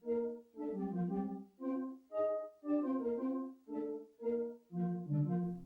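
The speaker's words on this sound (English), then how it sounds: "The GameCube settings menu features some smooth and relaxing music playing in the background" The GameCube settings-menu music plays sped up, a chain of short, bright melodic chimes in a bouncy rhythm, clear and alone.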